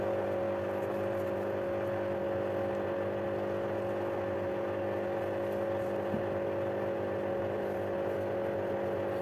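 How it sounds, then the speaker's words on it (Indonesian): A Beko 8 kg washing machine, 1200 rpm maximum spin, washing a rug, hums and whirs steadily at moderate volume with no pauses. "Ini Beko saya, ini Beko 8 kilo, maksimal spinnya di 1200 rpm"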